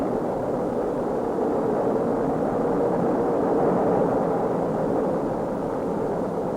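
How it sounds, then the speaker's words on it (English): A Titan II rocket lifts off carrying Gemini 4, heard as a continuous broad, low rumbling roar that holds steady and loud throughout. "Liftoff."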